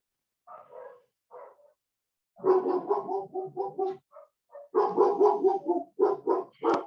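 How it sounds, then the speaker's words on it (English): Household dogs barking indoors at night as neighbors walk past, a few scattered yips at first, then sustained runs of loud, rapid barking close by in an otherwise quiet room. "So I apologize for my dogs barking."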